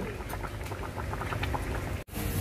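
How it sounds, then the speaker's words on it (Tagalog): Paksiw simmering in a pot, vinegar and salt added, bubbling loudly and continuously up close with a dense popping patter, briefly cut off by a short gap before resuming. "Pakuluan ko muna ha."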